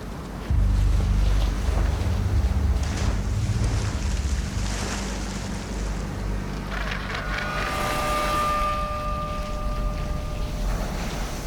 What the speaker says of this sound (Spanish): luchando contra el fuerte viento y el mar embravecido.